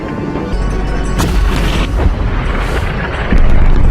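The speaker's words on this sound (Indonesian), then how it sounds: "Lalu tiba-tiba tank itu mengincar menara dan akan menembaknya" A tank fires its cannon at a tower in a war film: heavy booming blasts and rumbling crashes layered over a dense, noisy battle soundtrack.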